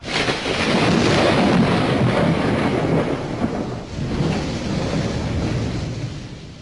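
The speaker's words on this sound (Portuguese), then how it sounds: "vai dar outra trovoada." Thunder rolls as a deep, loud rumble that swells early, eases, then surges again before fading, mixed with the hiss of falling rain.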